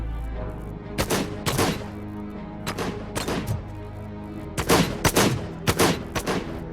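Bursts of gunfire in RoboCop: Rogue City, several sharp, loud volleys of shots separated by short pauses, with no talking.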